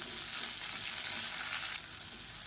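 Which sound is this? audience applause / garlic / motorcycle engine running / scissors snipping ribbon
garlic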